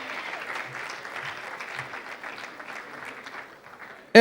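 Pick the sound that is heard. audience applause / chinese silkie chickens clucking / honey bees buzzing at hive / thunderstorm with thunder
audience applause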